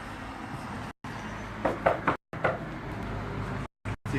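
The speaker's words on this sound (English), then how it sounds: "Never heard of a locked door before." A few quick, muffled knocks sound on a locked door of a legislative district office, coming in a short cluster mid-clip against a quiet room background.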